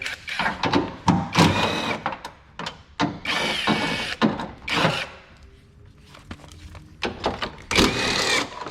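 A 10mm ratcheting socket wrench undoes a battery hold-down nut on a Chevy Avalanche, bursts of rapid ratchet clicking and metal scraping in uneven spurts with short pauses, close and clear.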